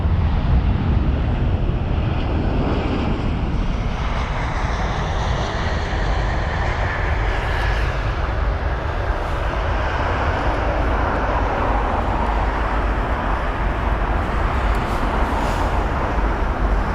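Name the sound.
British Airways Boeing 777-200ER landing at Heathrow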